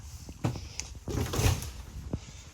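Plastic travel locks slide and clack on cabinet doors inside a 2023 Forest River Sunseeker 3010DSF motorhome, several short close knocks and scraping slides spread over a couple of seconds, with no talking.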